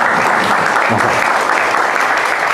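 An audience at a talk claps together in a loud, continuous burst, a thick even roar of hands heard up close with no speech over it.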